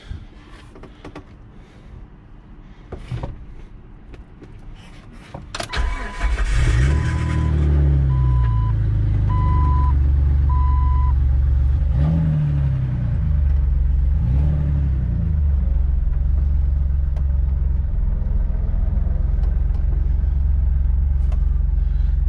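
A Jeep TJ engine cranks and catches, then settles into a loud, deep rumbling idle with several sharp revs rising and falling; a few knocks and clatters come before it starts.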